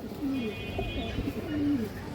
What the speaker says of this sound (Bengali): একবারে বুট ঠোঁটের পুরনো জাতের দোবাস কবুতর